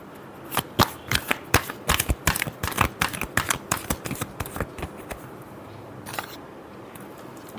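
Tarot cards riffle and snap in a rapid run of crisp, close shuffling bursts that thin out toward the end, with no voices.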